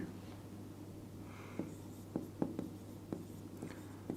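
A pen scratching on paper or a board during a Class 9 maths lesson on circles: a series of short, crisp strokes at an irregular pace, fairly close and clear over a low hum.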